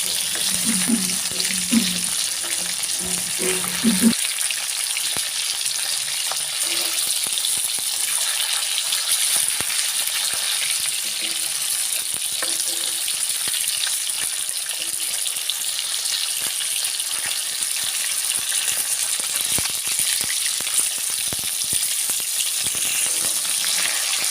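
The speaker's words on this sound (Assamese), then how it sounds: "মাছটো ফ্ৰাইটো প্ৰায় হৈছেগৈ আৰু ঘূৰাই মেলি দিছোঁ চবফালে সিজিবৰ কাৰণে" A local fish fries in a pan with steady, loud sizzling throughout, and there is a brief clatter of stirring or turning at the start.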